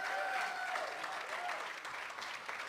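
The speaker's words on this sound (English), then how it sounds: "Give yourselves a big round of applause" A crowd at a housing policy forum breaks into a big round of applause, dense clapping that starts loud and gradually thins and softens, heard from a moderate distance.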